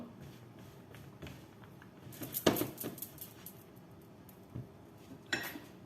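Chopped leeks are stirred in a pan with salted butter, giving soft, faint scraping and shuffling with a few sharper utensil clinks against the metal, heard alone.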